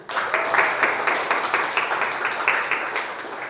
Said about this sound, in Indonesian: tepuk tangan buat Kesi